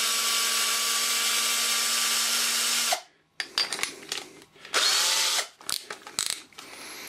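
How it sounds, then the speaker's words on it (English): Power drill fitted with a 13mm bit boring through metal: a loud steady whine for about three seconds, then stops, ratcheting clicks and bursts of renewed grinding as the drilling continues. "we're going to drill through with that"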